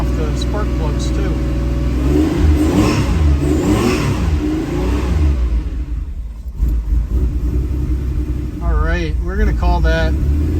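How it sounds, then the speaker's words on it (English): A 1979 Porsche 911SC engine held at raised revs, a steady loud drone with swelling rev surges, a brief dip near the middle, and someone talking over it near the end. "Keep the revs up a little bit because I'm trying to clean off the spark plugs too."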